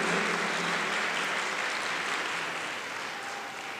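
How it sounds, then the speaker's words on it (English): Audience applause at a conference on electoral reform: a dense, even crowd clapping filling the room, holding steady and slowly fading over a few seconds. "You all deserve a round of applause for,"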